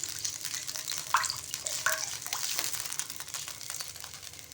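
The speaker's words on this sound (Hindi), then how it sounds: "मिक्स कर लेंगे अच्छी तरह से।" Ketchup and chicken stock are stirred into a Chinese Manchurian sauce: soft wet sloshing and scraping strokes with a faint sizzle, close by and without speech.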